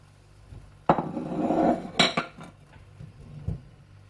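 Finely chopped onion, green chilli, fresh coriander, whole coriander seeds and cumin tipped into a bowl for pakora kadhi, with a sharp clink, a soft rustling tumble, then a few lighter utensil knocks close by.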